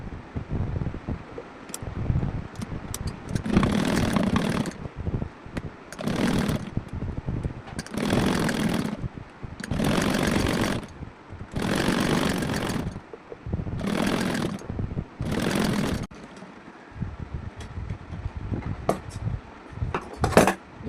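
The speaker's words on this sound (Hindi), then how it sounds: "अब इस पट्टी के ऊपर से हमें बीच में से सिलाई लगानी है" A sewing machine stitches down the middle of a blouse strip in repeated bursts of a few seconds each, separated by short pauses, loud and close with no talking.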